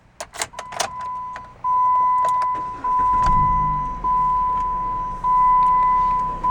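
Engine start of a 2012 Jeep Patriot Limited at about 50,000 miles, heard from inside the car: a few clicks and a steady chime tone, then the starter cranking and the engine catching into a low idle while the chime repeats.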